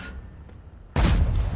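WZ-111 tank cannon firing in World of Tanks, a single sudden heavy blast after a quiet moment, followed by a loud rumbling roar that sustains to the end.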